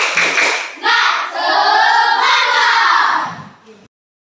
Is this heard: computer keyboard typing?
no